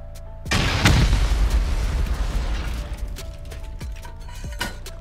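A rocket explodes in a video game with a sudden loud boom and a rumbling decay, followed by faint mechanical clicks and a few sharp hits.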